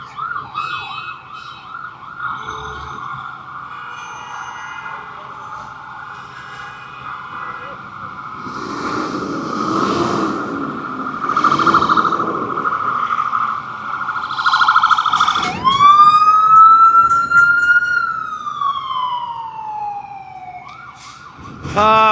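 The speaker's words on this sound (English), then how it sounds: "Wouldn't be New York without sirens, huh," Loud wailing sirens rise and fall over steady New York City street noise in Manhattan, with a swooping siren sweep near the end and some talking mixed in.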